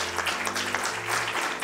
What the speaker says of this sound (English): with that applause